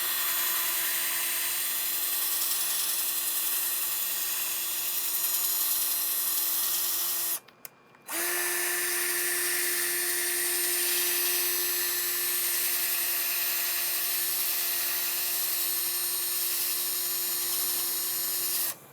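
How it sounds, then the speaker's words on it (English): Power sanding a hollowed padauk wood turning bowl, a steady loud whirring drone with a high tonal hum that runs continuously, cuts out briefly for about a second, then resumes at the same level to the end. "now it's time to sand everything"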